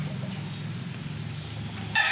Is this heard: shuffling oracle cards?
no